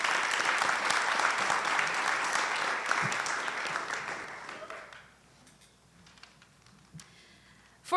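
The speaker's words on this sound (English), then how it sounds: "Let's give our panelists a round of applause." Audience applause for a panel of speakers at a community forum on race in Richmond, steady dense clapping for about five seconds before fading out to a quiet room with a few scattered claps.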